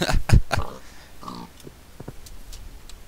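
Pigs oinking in a video game, with a few loud close grunts at first, then softer scattered snorts and clicks fading out.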